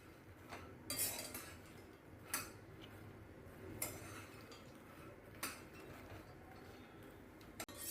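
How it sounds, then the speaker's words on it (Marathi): Makhana (fox nuts) dry-roasting in a pan, with faint scattered clinks and scrapes of a spoon stirring against the metal at irregular intervals, close and quiet with no talk. "आता हे मी भाजून घेतेय."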